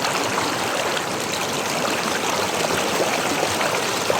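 Strong river current rushing over rocks at a riverside campsite in DRT, Bulacan, a steady loud broadband roar with no pauses, close and filling the scene.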